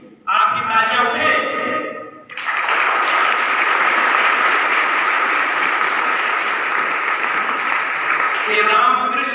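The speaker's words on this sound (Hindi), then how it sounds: "आपकी तालियां उठे।" At a Constitution Day gathering, a speaker's voice briefly gives way to a sudden, loud burst of sustained crowd applause that holds evenly for several seconds, and the voice returns faintly at the end.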